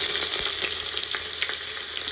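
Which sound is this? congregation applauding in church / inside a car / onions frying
onions frying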